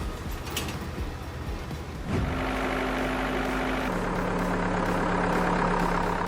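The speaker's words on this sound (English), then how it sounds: "New Holland provides stable traction and speed, and its hydraulic system controls the baler efficiently." A New Holland tractor pulls a baler, its engine droning steadily and loud; after a short rattle the load rises into a heavy, constant hum with a steady tone that drops in pitch partway through.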